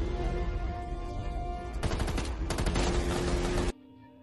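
Dense bursts of automatic gunfire fill a battle scene in the film Renegades, rapid overlapping shots layered over a loud rumbling background before cutting off abruptly near the end.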